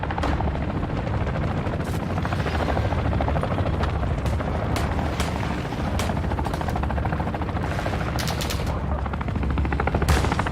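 A patrol helicopter in Call of Duty thumps with a steady rotor drone beneath loud bursts of machine-gun fire and scattered gunshots, the whole scene dense and close.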